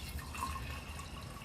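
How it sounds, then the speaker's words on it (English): Water added to a seed sprouting jar with the lid removed, giving a steady, close liquid trickle with light splashing that continues alone for over a second. "I'm going to add some water in here,"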